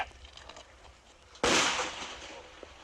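Sudden jarring explosion close by on a basic-training minefield crawl course, a sharp loud burst followed by a long rumbling, hissing decay as debris rains down.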